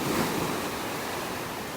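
Continuous rushing wash of ocean waves on a beach in North Naples, Florida, broad and steady with light wind noise and no voices.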